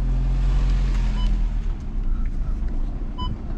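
A car engine rumbles low and steady as the vehicle drives up into a garden, close and continuous, with faint clicks and small knocks over the running motor.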